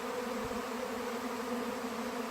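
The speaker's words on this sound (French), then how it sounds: "Et là, c'est vraiment un très très bel essaim qui arrive." A very large swarm of honeybees arriving to settle into a new home, filling the air with a dense, steady buzzing hum that holds unbroken and loud throughout.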